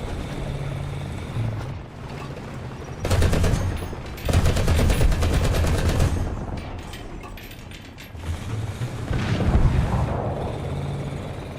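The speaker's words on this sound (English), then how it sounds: "Something fired at me with a machine gun." Machine gun fire in the War Thunder video game, rapid bursts of automatic shots over a constant engine drone, loud and close, with two main volleys in the middle and no talk.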